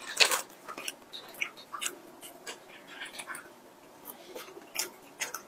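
Biting and chewing a peach snow skin mochi, close and soft, with scattered moist bites and crisp chewing clicks in an otherwise quiet space.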